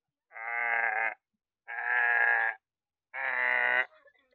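A voice imitates a buffalo's call in three long, drawn-out, droning bellows separated by brief silences, loud and close with nothing else around them.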